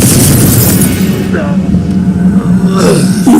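A Confringo blasting spell erupting in Hogwarts Legacy, a loud, close boom that rolls on as a roaring rumble, with a second burst near the end.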